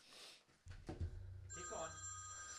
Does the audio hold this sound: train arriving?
no